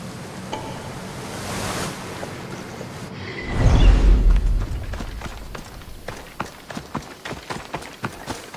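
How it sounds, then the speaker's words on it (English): Rushing water at a waterfall in the video game Assassin's Creed Odyssey, a broad steady roar that swells loudly for a moment midway, then eases under a series of sharp footstep-like taps. "This is the waterfall."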